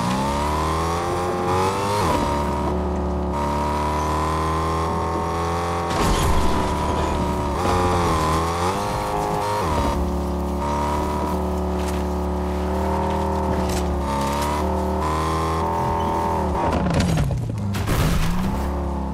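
A car engine in the video game Fortnite drones steadily and loudly, pitch rising and falling as it revs and accelerates, with gear-like swoops and a brief deep dip near the end.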